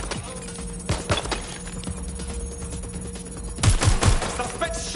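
Gunfire in the Watch Dogs Legion video game rings out in scattered bursts, a few sharp shots early and a louder cluster near the end, over a tense humming game soundscape.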